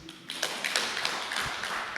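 A church audience at a choir anniversary event claps for church leaders, a scattered patter of hand claps building after a brief quiet start.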